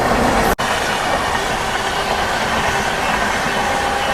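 The Kerala Superfast Express, running from Thiruvananthapuram to New Delhi, rolls past close and loud, a continuous roar of wheels and rail rumble with a brief sharp dropout near the start and faint clickety-clack throughout.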